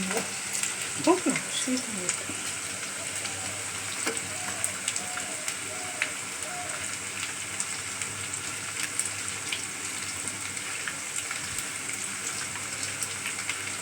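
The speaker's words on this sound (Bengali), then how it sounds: "পেঁয়াজ যা রসুন ভাজা হচ্ছে" Onion and garlic paste frying in hot oil for a thin chicken curry, a close, steady hissing sizzle with a few faint utensil taps and soft background voices.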